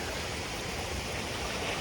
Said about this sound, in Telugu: ఇప్పుడు మీరు ఆ వాటర్ ఫాల్స్ చూడండి పైనుంచి ఎలా పడుతున్నాయి అనేవి